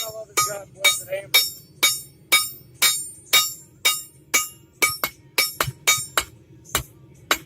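A blacksmith striking metal with a hammer, about twenty sharp ringing blows in a steady rhythm, each with a brief metallic ring, close and loud.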